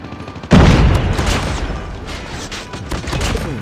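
R9-0 shotgun in Call of Duty Mobile fired in quick succession: a loud sudden blast followed by a dense, rolling burst of booming shots that tails off and swells again, close and dominant.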